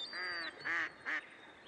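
A Pacific black duck quacks three times on a wetland, the calls spaced apart and fairly faint at a distance, with no voices.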